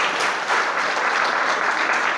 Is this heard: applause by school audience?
yes